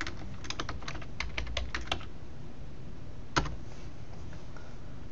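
Rapid bursts of keystrokes on a computer keyboard, quiet and close, typing a short name into a text box with a brief pause and then a single isolated click.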